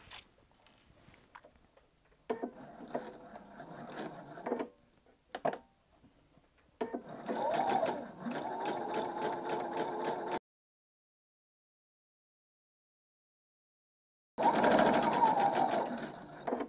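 A sewing machine stitches bias binding onto a garment in several bursts of steady whirring, with short pauses between runs and a longer silent gap before a final loud stretch.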